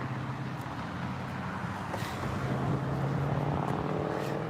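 Car engines passing on a town street, a loud, continuous broadband roar and low hum that swells slightly toward the end, with wind buffeting the microphone.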